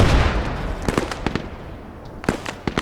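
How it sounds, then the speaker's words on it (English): High explosive cannon shells from a 75mm cannon burst in a video game battle, a heavy blast followed by several sharp, scattered detonations at varying distances. "I think it's a 75mm cannon that can fire high explosive shells"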